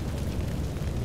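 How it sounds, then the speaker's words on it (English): A blown-up vehicle explodes in GTA 5 with a dense, loud, rumbling blast that fills the whole short moment without a break. "Yeah, blow it up anyway."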